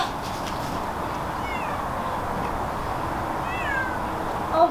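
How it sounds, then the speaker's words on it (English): A barn cat on a farm meows a few times, thin and moderately loud, over steady outdoor background noise. "Now Spooky Pookie, our barn cat, he's been exploring the farm more."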